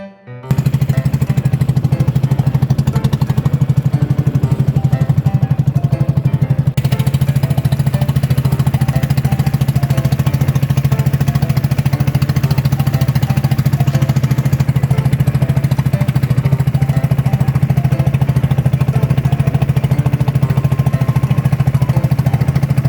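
A small motorboat engine runs loudly and steadily with a rough, chugging drone on the way to Sibukawan Island, continuing without pause for over twenty seconds.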